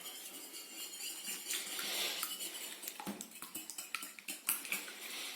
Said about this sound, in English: there's your 2 eggs, and they're going to get whisked up in the bowl nicely